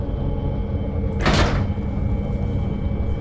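A door opening in the horror game Penumbra Overture, a single airy swish of about half a second standing out over a steady, droning game ambience.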